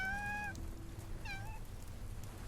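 A cat in the video game Love and Deepspace gives two meows, the first a longer rising cry and the second shorter, over a quiet low background hum with no talk.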